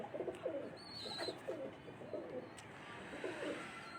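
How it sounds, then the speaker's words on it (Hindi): Black pigeons perched on a rooftop in Mirpur Khas give soft, repeated low coos in a steady rhythm, faint and somewhat distant, with a brief higher chirp and no talking. "हमारे काले कबूतर जो है ना यहाँ पे माशाल्लाह से बैठे हैं"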